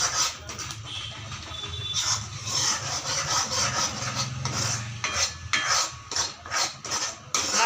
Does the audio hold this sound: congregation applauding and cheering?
no